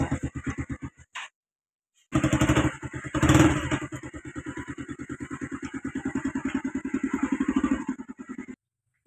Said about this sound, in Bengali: তো এখন আমার ভাইয়ে তার বাইকটা লইয়া বাইর হয়ে যান